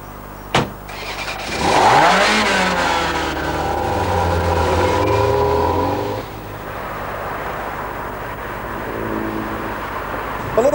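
A Ferrari revving and accelerating, a loud rising engine roar with sweeping gear changes that settles into a steady drone and fades, with brief voice-like bursts near the start.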